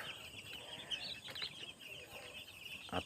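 Newly arrived commercial broiler chicks chirping in a brooder in the morning, a dense run of high peeping calls, fairly close, with a louder burst near the end.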